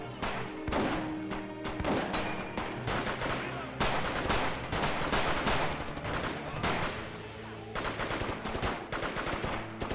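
Bursts of explosive gunfire and blasts crackle loudly and continuously in an urban combat scene from Red Orchestra 2: Rising Storm, where a grenade rigged as a booby trap goes off amid dense, overlapping shots.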